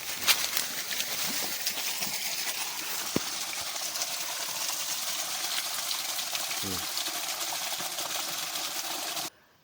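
Water gushes steadily from a motor-driven pump, a continuous loud broadband rush with an engine-like hum beneath it, running unbroken for about nine seconds before cutting off abruptly.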